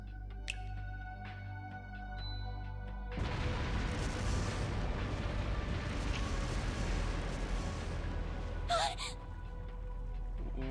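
Loud explosions tear through a palace in the video game Trails through Daybreak, a sudden heavy rumbling blast erupting after a quieter stretch and roaring on with crackling debris, a sharp burst near the end.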